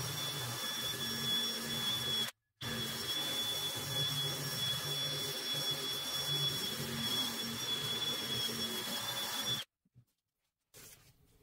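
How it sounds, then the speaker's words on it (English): A large wire brush wheel on a power tool scours rust from the metal of an Estwing hammer, giving a steady loud whirring grind with a brief cut near the start and stopping toward the end. "I'm going to try a bigger wire brush wheel. See if I can get a little bit more speed"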